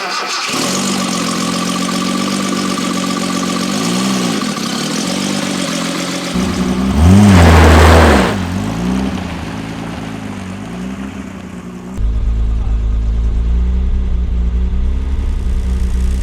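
A Datsun 280Z engine fitted with a new muffler, fresh air filter and new tires runs steadily at idle, then revs up loudly, settles back and drops into a deep, rumbling idle, close by with no talking.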